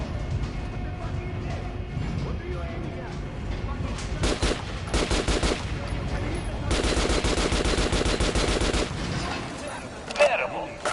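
Rapid automatic gunfire in the video game Metro: Last Light, aimed at an armored training dummy: dense bursts of shots, loud and close, with brief pauses between volleys.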